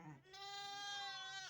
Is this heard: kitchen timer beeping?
no